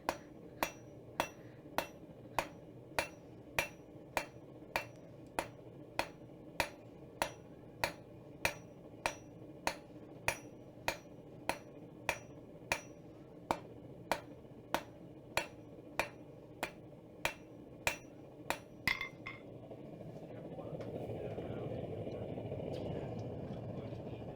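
A hammer strikes metal over and over in an even, steady rhythm of about two blows per second, each hit sharp and ringing. After roughly twenty seconds the blows stop and a soft, low rumble remains.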